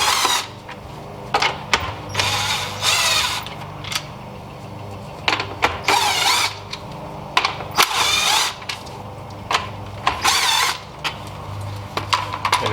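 A tool whirs and clicks in short, uneven bursts while 10 mm bolts are loosened on a Lexus IS300 radiator, close up, with brief quiet gaps between each run.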